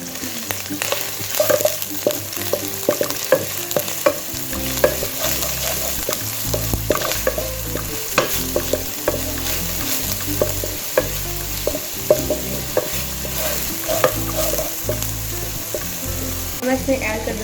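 Onion paste fries in oil in a kadai with a steady sizzle, while a utensil stirs and scrapes it in frequent clicks, close and continuous.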